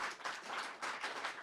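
Live audience at a business conference applauding, a dense, steady wash of many hands clapping with slight swells, fairly close and without any talk over it.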